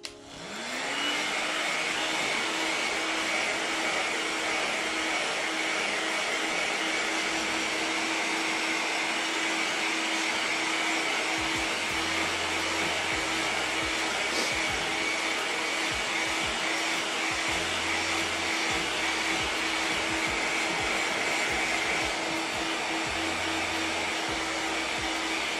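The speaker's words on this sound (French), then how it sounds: "votre sèche-cheveux." A hair dryer blows steadily on freshly painted ABS bodywork of an RC car, a loud continuous whirring drone that spins up at the start and runs unbroken for about twenty-five seconds with no talking.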